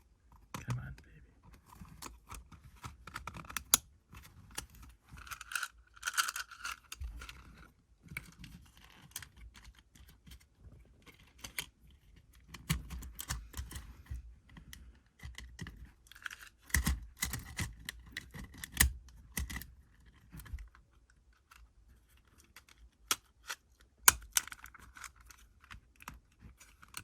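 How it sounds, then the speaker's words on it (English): A plastic case of jumbo paper clips is handled up close, giving repeated sharp clicks, rattles and snaps in irregular bursts, with soft talking in between. "Struggling with the paperclip case."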